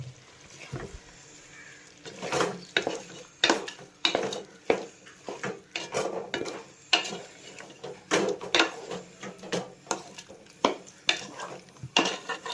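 Chilli chicken is stirred in a pan with a spoon, giving repeated rhythmic scraping and clinking strokes, close and fairly crisp, after a quieter opening.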